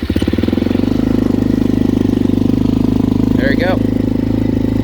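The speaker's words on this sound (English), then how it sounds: "it's cold start, and we'll see if she starts right up" A motorcycle that replaced a Suzuki Eiger 400 idles after a cold start in chilly weather, its close, loud engine throbbing in a steady rapid pulse while someone speaks briefly over it.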